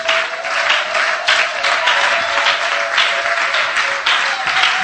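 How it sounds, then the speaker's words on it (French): A church congregation applauds loudly, steady dense clapping filling the space throughout, with a sustained tone underneath and no talk over it. "Est-ce que tu peux acclamer très fort le Seigneur?"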